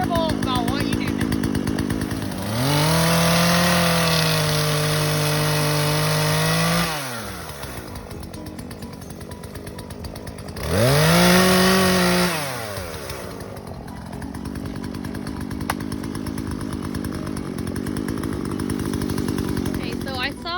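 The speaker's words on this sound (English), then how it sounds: "The chain is spinning on the bar." Chainsaw running with its chain spinning on the bar, two loud revving bursts rising and falling between lower idling stretches, close by.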